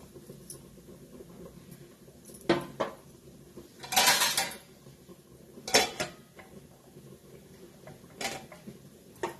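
A cooking pot for steaming palak kofta being set down on a gas burner, a few sharp metallic clanks and scrapes of cookware standing out against a quiet kitchen background.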